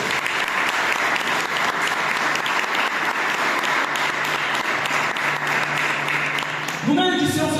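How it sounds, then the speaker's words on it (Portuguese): A church congregation claps loudly and steadily throughout a worship service, a dense, sustained roar of hands, with a short musical or tonal sound entering at the very end. "Sabe que você pode aplaudir bem forte?"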